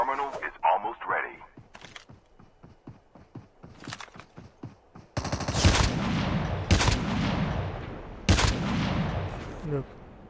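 AK-47 fire in the mobile battle royale shooter Call of Duty Mobile, a string of quick shots followed by louder, denser bursts and explosive blasts, with game sounds and a voice talking.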